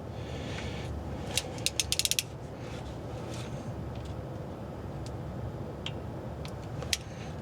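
A torque wrench makes a quick run of sharp clicks while tightening a Dana 60 axle cover bolt on a Jeep Gladiator, then a few isolated ticks over steady background hum.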